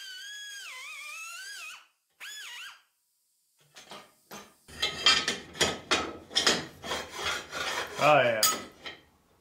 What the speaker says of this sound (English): So use my little air beveler here and put a chamfer on that.